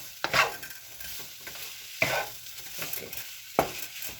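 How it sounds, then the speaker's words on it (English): Shrimp and asparagus fried rice sizzles in a pan over high heat, with a soft steady frying hiss and several sharp scraping stirs of the spatula; one short word is spoken quietly. "So let it fry, especially with high heat."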